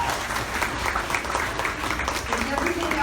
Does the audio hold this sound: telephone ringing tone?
no